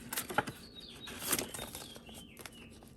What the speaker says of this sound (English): The birds are chirping loud today.